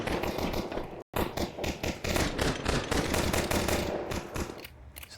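Bursts of rifle gunfire in a Counter-Strike match at a professional esports tournament, dense rapid shots filling the clip with a brief gap near the start, loud and close, with no talk over them.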